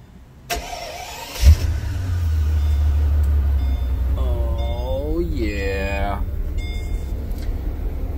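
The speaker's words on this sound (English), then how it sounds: "start the car. Hear that exhaust note?" Mercedes SL600 engine starting with a sharp crank and catch, then settling into a loud, steady idle exhaust note heard close up, with a person talking over it partway through.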